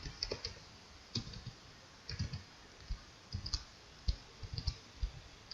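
A computer mouse clicks a button on a web page, giving sharp, sparse clicks in small bursts at irregular intervals, close and fairly quiet with no talking.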